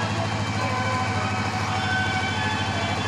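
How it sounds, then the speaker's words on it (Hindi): Children's ride train moving through a park, a continuous rumbling engine drone with rhythmic chugging, steady and fairly close throughout. "ये देखिए बच्चों वाला ट्रेन"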